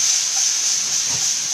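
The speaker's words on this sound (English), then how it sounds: "in the same pan which we use for pan frying the paneer, I'm adding some tomatoes" Diced, de-seeded tomatoes hitting a hot pan just used for frying paneer give a steady, loud, bright hiss of sizzling that stays even throughout, with no voices.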